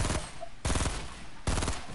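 Three sharp bursts of automatic gunfire ring out in a PS4 shooter game, each a loud crack cluster separated by brief pauses.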